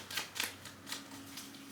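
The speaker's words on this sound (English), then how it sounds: "I'm just going to go ahead and do a quick shuffle." A deck of tarot cards is shuffled by hand in quick riffling bursts, several soft crisp flutters close up in a quiet room.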